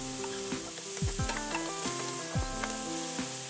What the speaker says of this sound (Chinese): 炒香之后，就可以把西兰花和白花菜入锅炒制。